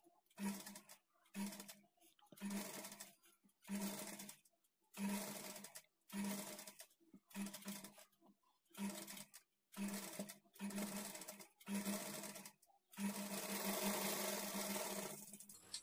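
A sewing machine stitches sleeves onto a lined blouse in short repeated bursts of rapid whirring, each run separated by brief pauses, ending in one longer continuous run; close and alone.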